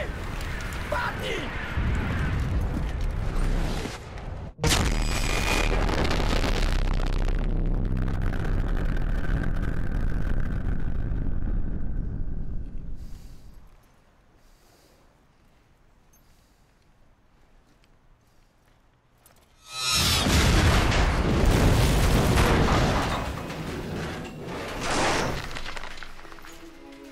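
Battlefield: Bad Company 2 gameplay with a loud, booming artillery shot and explosion: a sharp crack gives way to a long, heavy rumble that fades to near quiet before another powerful roaring blast erupts.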